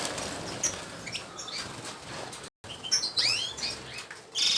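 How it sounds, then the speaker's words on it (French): Goldfinches and canaries in an aviary at the end of breeding season, moulting, flap their wings in repeated bursts while bright chirps and tweets ring out close by, with a brief gap of silence midway. "donc là les chardots sont toujours là"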